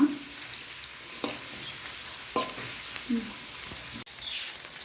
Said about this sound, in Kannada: ಕೆಂಪು ಬಣ್ಣ ಬರಬೇಕು, ಅಲ್ಲಿ ತನಕ ನಾವು ಫ್ರೈ ಮಾಡುವ.